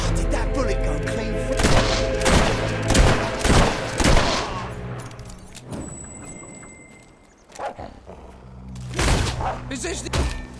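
Gunfire and battle noise from the video game Fable III, a series of loud sharp bursts in quick succession, a lull, then more shots, with a voice talking over part of it.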